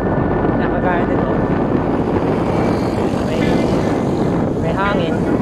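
Strong wind roaring across the microphone while cycling uphill toward Kaybiang Tunnel, a loud constant rush throughout, with faint chirping tones and a voice speaking briefly.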